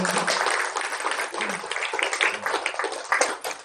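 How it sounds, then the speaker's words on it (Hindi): Applause from the audience at a Women's Day celebration held by the Brahma Kumaris in Gopal Nagar, Najafgarh, Delhi, a dense, steady crowd of clapping lasting several seconds with no gaps. "सभी तालियों का साथ"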